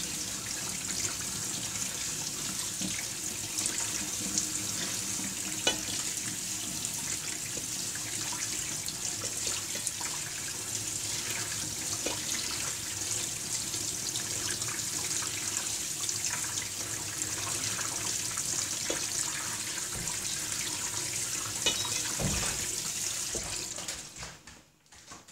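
Tap water runs steadily into a kitchen sink while something is rinsed clean, a continuous close splashing with small knocks and drips throughout, cutting off abruptly at the end.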